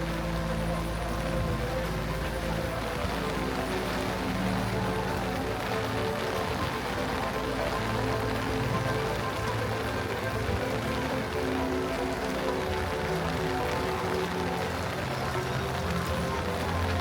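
Steady rain falling at Disneyland, a constant dense hiss of drops on surfaces throughout, with a low rumble underneath and no speech.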